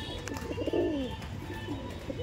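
Madrasi pigeons coo softly in a cage in Tollygunge, giving a single low rolling coo against a constant background hum.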